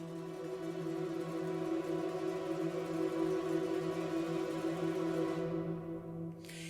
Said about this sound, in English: And so these strings, along with the lutes, sound like this by themselves